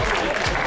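A crowd claps at a mountain bike race awards ceremony in Puebla de Sanabria, a brief dense burst of applause filling the whole moment.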